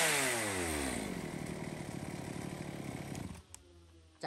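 A used Japanese chainsaw runs after a pull-start, its small two-stroke engine buzzing steadily at high revs before winding down to a fast, sputtering idle, then falling quiet with a couple of small clicks.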